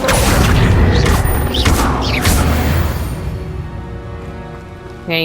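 Confringo fire spell in Hogwarts Legacy: a loud, dense blast with a crackling, rain-like roar that slowly fades, and a short burst at the end.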